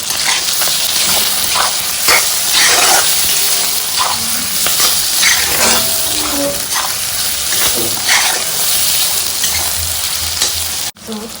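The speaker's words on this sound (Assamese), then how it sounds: "মাংসখিনি ভালকৈ ভাজি তেল উলিয়াই দিব লাগিব" Pork frying in oil and being stirred in a pan, a loud continuous sizzle with scraping stir strokes throughout, close and steady until a brief cut near the end.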